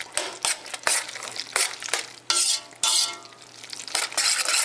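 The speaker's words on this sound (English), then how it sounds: "Then you just stir it all together." A spoon stirs cheddar cheese into hot macaroni in a single cooking pot, giving repeated scraping, sloshing strokes with a faint sizzle beneath, close and fairly loud.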